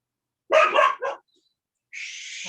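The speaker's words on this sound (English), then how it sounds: "it's my trash man and my dog's barking at them." A dog lets out a quick burst of two or three sharp barks close by, followed after a pause by a thinner, higher whining yelp, with no talking.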